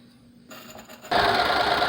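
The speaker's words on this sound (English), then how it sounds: "now I am stitching those in place at a 1/4 inch seam" Sewing machine stitching a quarter-inch seam on a fabric face mask, starting quietly then running steadily and loudly after a moment, close with no talking.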